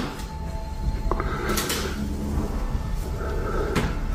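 A door pops open by itself indoors with a brief knock and creak, heard close over a steady rumbling background hiss, with no talking.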